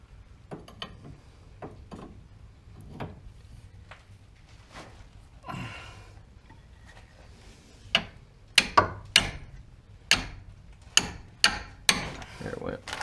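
Wrench working a tie rod loose on a Dodge Caravan: scattered clicks and knocks early, then a run of sharp metallic ratcheting snaps and impacts repeating close and loud near the end, no talk.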